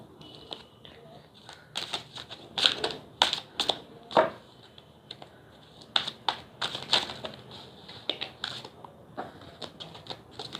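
Tarot cards being shuffled and drawn by hand: a run of quick papery riffles, snaps and slaps in irregular bursts, close and fairly quiet, with no clear talk over them.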